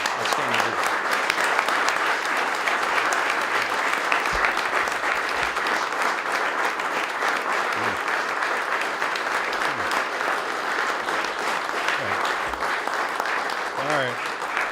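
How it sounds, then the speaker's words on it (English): A room full of people gives a sustained round of dense applause for an outgoing Adjutant General, General Shellito, steady throughout at a ceremony where Governor Pawlenty makes an announcement. "everybody in the room would just join me in a round of applause"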